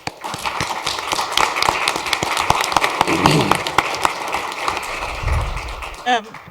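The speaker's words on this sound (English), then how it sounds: "give a round of applause to all the students who spoke tonight" Applause for the students who spoke at a city council meeting in a chamber: continuous clapping from the room at moderate level, with a few low thumps near the end and voices beneath.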